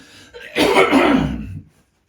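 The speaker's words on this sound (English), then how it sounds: "You're going to have to excuse me because I'm going to cough." A single heavy cough, close and loud, bursts out and lasts just over a second before trailing into silence, coming from someone speaking about community pantomime at an amateur dramatic society.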